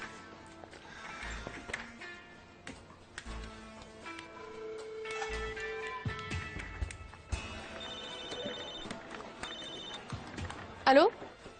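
A telephone rings once in a room with a short electronic trill near the end, following quiet ticking and shuffling sounds while people talk.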